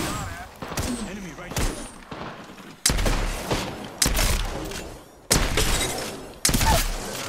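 Several heavy gunfire bursts in Apex Legends hit hard in separate volleys, each followed by a decaying roar, with excited voices talking between the shots.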